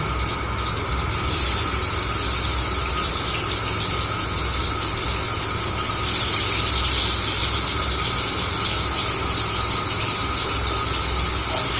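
Hilsa fish pieces frying in hot oil in a wok, giving a steady, loud sizzling hiss that holds evenly throughout, with a slight surge partway through.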